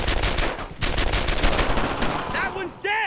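Rapid bursts of automatic gunfire from World War II weapons in the shooter game Brothers in Arms: Earned in Blood, a loud dense crackle throughout, ending in whistling, swooping tones.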